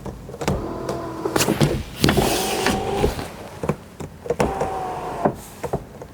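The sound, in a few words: moonroof of a 2001 BMW 325xi E46 opening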